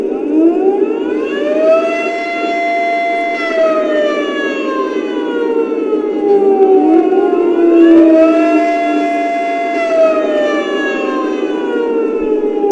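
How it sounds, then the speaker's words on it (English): An air raid siren horn on a military train engine wails in two long rising and falling cycles, loud and close, its harmonic tone sweeping up and sliding back down with no voices. "So that's the air raid siren"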